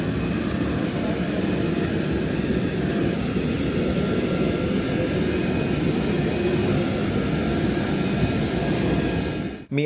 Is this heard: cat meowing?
no